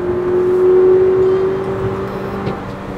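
A four-wheel-drive car's engine running with a steady, loud hum and a sustained tonal drone that eases slightly in pitch, heard close without speech.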